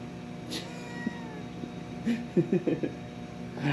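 A cat meows several times in quick succession near the end, after a few faint sounds against a quiet room hum.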